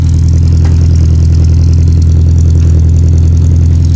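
A 1975 MGB with a freshly rebuilt carburetor runs just after a cold start, its engine idling in a loud, steady, close-up drone with a constant low rumble and no voices over it.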